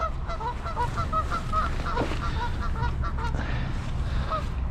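Canada geese honking repeatedly outdoors beside a fishing spot, a steady chorus of rising calls at middle distance over low wind rumble, with no talk.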